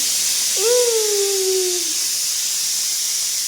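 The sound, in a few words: pressure cooker releasing steam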